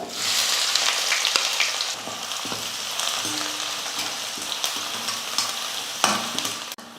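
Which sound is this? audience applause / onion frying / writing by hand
onion frying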